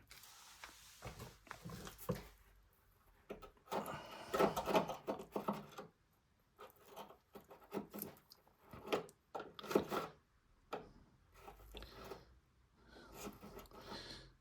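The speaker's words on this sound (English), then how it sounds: "Let's get a screwdriver, stick it in there." An old screwdriver scrapes and grinds against a rusted panel on a Mazda MX-5 NC, giving quiet, irregular rasping bursts broken by short pauses.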